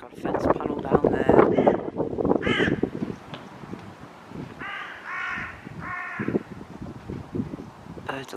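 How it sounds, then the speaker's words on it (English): Crows caw loudly and repeatedly during a winter storm with frost and snow, harsh calls in clusters over gusty wind noise, with someone talking through the first part. "Birds are all going ballistic now."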